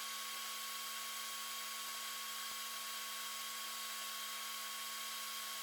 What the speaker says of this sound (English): Put my fume extractor on, shouldn't I?